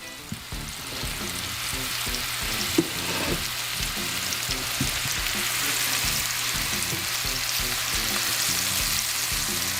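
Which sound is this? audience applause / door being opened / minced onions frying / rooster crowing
minced onions frying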